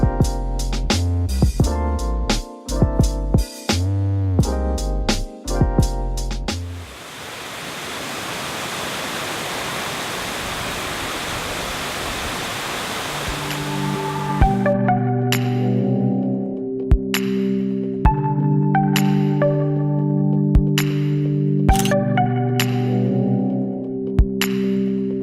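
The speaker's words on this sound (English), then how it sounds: "So now we're going to head down to the waterfall, get some photos there." A steady, broadband rushing roar of the waterfall at Paronella Park fills the middle stretch, loud and continuous, with music playing before and after it.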